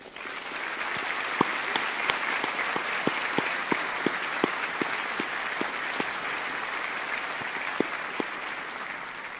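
Sustained applause from a large audience at a winter graduation ceremony, steady dense clapping with a few sharper individual claps standing out, continuing evenly throughout.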